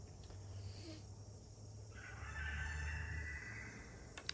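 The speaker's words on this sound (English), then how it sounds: "I swear the rooster wasn't crowing about a damn thing till I came out here" Outdoors, a rooster crows in the middle distance, a single drawn-out call rising over a low background hum, with no talking.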